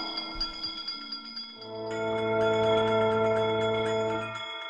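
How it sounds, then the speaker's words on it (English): A haunted-house style ride's spooky séance scene, where a sustained tonal chime rings out with long steady overtones over eerie music, moderately loud and alone without speech. "give us a hint by ringing a bell"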